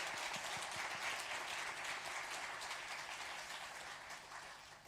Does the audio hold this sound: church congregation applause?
yes